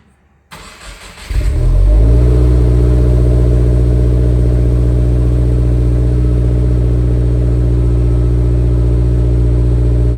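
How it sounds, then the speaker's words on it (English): Modified-exhaust Subaru WRX with the FA24 engine cold-starting: a brief cranking burst, then the engine catches and settles into a loud, deep, steady high idle that drones on close by without any voices. "on cold startup, these cars are pretty dang loud, like really loud"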